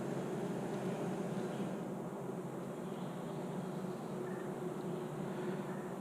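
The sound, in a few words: honey bees buzzing at hive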